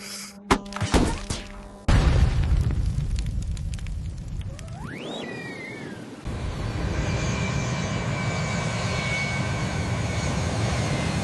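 In a Simpsons cartoon, an airplane flies while towing three other planes. A few sharp clunks open the sequence, a whistling swoop rises and falls, and then a steady, close engine drone continues without a break.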